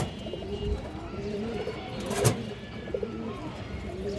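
Domestic pigeons at a Bengali bird sale, including Budapest, Army and high-flyer breeds, coo in repeated low throaty rolls, fairly close and steady, with no talk over them.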